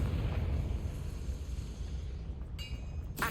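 Confringo fire spell explosion in the Hogwarts Legacy video game, a dense rumbling blast that holds across the moment, followed by faint crackling debris, no speech.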